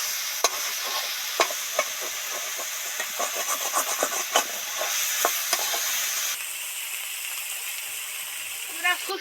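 Whole spices and chopped figs fry in hot oil for a vegetarian Bengali fig curry, giving a steady sizzling hiss broken by sharp clicks and scrapes of stirring; the hiss softens slightly near the end.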